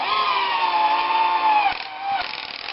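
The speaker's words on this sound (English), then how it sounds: "My drill sucks. I have to charge it for an hour just to do 4 snaps." A weak cordless drill whines steadily while drilling snap holes in a hockey mask prop, its motor pitch sagging under load, then briefly dropping and picking up again, close and continuous.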